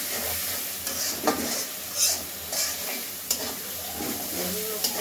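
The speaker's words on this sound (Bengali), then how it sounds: "মাছটাকে একটু কষাই নিলাম" Fish is sautéed in a pan, stirred again and again as it cooks. Close, steady frying hiss is punctuated by regular spatula scrapes and taps against the pan, with no speech.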